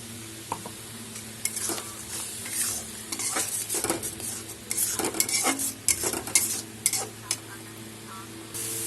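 Spice paste sautéing in oil after water is added, a soft continuous sizzle broken by repeated spoon scrapes and clinks against the pan, close and fairly quiet.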